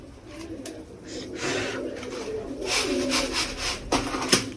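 Pigeons murmur and coo while being given grain beside their coops, with soft rubbing and scattering noises nearby and a sharp knock near the end, all close and fairly quiet, with no talking.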